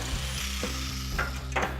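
Clamps ratchet tight on custom car body tubing in a workshop, a steady run of close mechanical clicks with a few sharper metallic clacks near the end.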